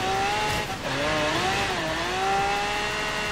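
A car engine races across a frozen ice lake in Forza Horizon 3, a steady loud drone whose pitch swoops and wavers as the driver lifts and revs again, with no talk.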